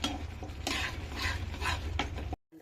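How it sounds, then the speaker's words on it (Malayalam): Semolina being stirred into upma in a pan, a series of close scraping and shuffling strokes with a faint sizzle underneath, ending abruptly in silence. "റവ ഇട്ട് ഇളക്കി കൊടുക്കണം."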